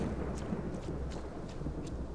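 A low, continuous thunder rumble rolls through a stormy scene in the video game Obscuritas, quiet and distant, with a soft hiss like rain over it.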